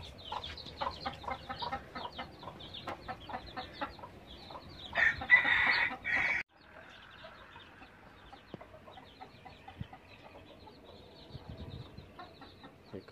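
Chickens and chicks in a rural house yard in Tay Ninh, Vietnam, clucking and peeping in quick repeated bursts, with a brief louder squawk partway through, moderately close and with no talk.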